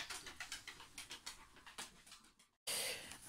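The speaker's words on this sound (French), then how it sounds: "Je vous montre un petit peu le chien." A dog pants in rapid, rhythmic bursts close by for nearly three seconds, broken by a short silence and then a burst of louder noise.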